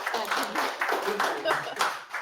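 A small group gives a short round of applause during a wholesale business call session, the clapping loud and close, with several uneven bursts over about two seconds.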